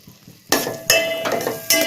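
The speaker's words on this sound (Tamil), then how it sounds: "அடுத்து கட் பண்ணி வச்சிருக்க முட்டைக்கோஸை போட்டு வதக்கலாம்." Chopped cabbage being tossed and sautéed in a pan for a bread egg masala, with a few sharp bursts of clattering and stirring against the metal over a low sizzle, each burst fading slowly.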